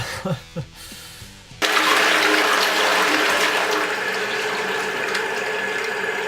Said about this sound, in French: quand vous tirez votre chasse d'eau avec la lunette de remontée